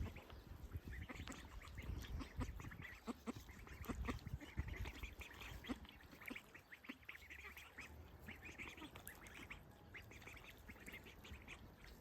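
A group of ducklings quacks continuously, with overlapping calls that rise and fade in busy bursts, fairly quiet and close, with no speech.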